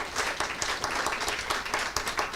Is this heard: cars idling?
no